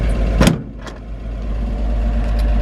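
The engine of a 1954 Chevy 5-window truck running loud and close, a deep steady rumble with a sharp knock early on and then an even idle, with no talking.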